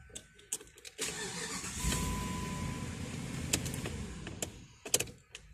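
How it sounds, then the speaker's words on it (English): A Jeep Commander engine cranks and catches after a few faint clicks, settling into a steady idle; a brief electric whine and some light clunks follow, heard from inside the vehicle with no talk. "Let me try to run the engine and see if that changes."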